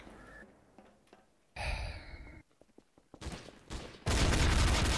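AK rifle fire in the video game Trouble in Terrorist Town comes in several loud bursts separated by gaps, with a breathy sigh early on and the heaviest, closest volley at the end.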